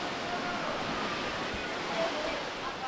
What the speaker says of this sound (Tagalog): Yung mga alon sa dagat.